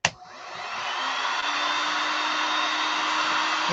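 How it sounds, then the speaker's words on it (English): Heat gun switched on and running, a click then a steady loud airy whir with a faint motor hum, continuous and close with no talk. "Okay, so we've got our heat gun."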